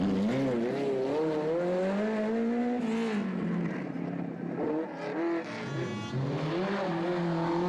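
A Ferrari rally car engine at the 2012 Legend Boucles de Spa revs hard and climbs through the gears, loud and continuous, with a passing roar and a short lift-off midway.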